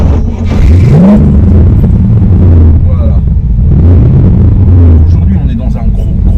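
A big 5.7-litre V8 in an American car rumbles steadily while driving to a classic car gathering, deep and close with engine swells under continuous talk from the driver.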